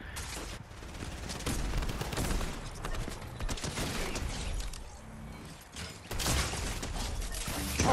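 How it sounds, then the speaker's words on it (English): Dense gunfire from the Fortnite video game, with repeated shots and rapid bursts crackling almost nonstop across the whole stretch, loud and close, with brief dips in between. "You're lucky I'm getting shot by John."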